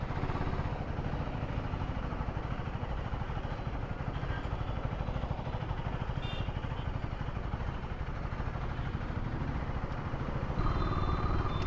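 A Husqvarna Svartpilen 401 motorcycle being ridden through highway and city traffic, its engine droning steadily and close for the whole stretch, with wind rush and no talking.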